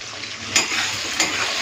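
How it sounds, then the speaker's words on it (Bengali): Steady close sizzling of fish oil frying in a pan, with two brief sharp spits or stirs cutting through. "এখন মাছের তেলটাকে লাল করে ভেজে নেব"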